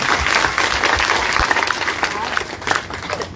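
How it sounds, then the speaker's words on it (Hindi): A political rally crowd claps loudly and continuously, dense applause filling the air up close, tapering slightly toward the end with voices mixed in. "एक बार इस लड़के के लिए ताली बजाइए सारा के साथ।"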